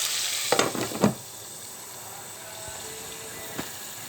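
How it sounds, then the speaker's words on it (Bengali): Sliced bitter gourd fries in a covered pan, a quiet, continuous sizzle with a few sharp clatters of stirring early on and one faint knock near the end. "করলা ভাজি, দারুণ করলা ভাজি"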